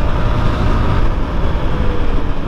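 A modified TVS Apache RTR 160 4V motorcycle running with an altered exhaust sound, a loud, steady low rumble with a dense throaty drone and slight pulsing, close by and with no voices over it.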